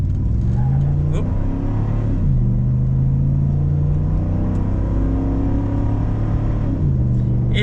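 The V8 engine of a 2014 first-generation Ford Raptor pickup pulls hard under acceleration, a loud close rumble rising in pitch through two upshifts, with the drone heard from inside the cab.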